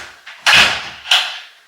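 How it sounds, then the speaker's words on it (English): A door pulls shut at home, with a soft preliminary bump, then a loud close, then a second sharp knock as the latch settles, all close to the microphone and free of talk. "let me shut the door."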